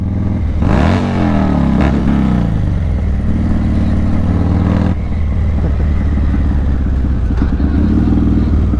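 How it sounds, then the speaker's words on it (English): A Yamaha MT-09 SP motorcycle engine revs hard to a high pitch, rising sharply near the start and then settling into a loud, steady roar at close range, with voices faintly heard over it. "I hope I didn't blow my motor up with that rev though, it was fucking high."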